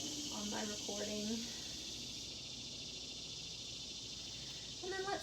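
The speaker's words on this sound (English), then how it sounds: "You might hear the cicadas on my recording." Cicadas buzz steadily and faintly in the background outdoors in the morning, with a few brief chirping calls now and then.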